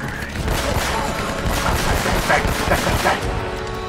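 Dense gunfire from a shootout in the video game Uncharted: Drake's Fortune Remastered, a loud continuous fusillade of rapid shots with heavy bursts near the end.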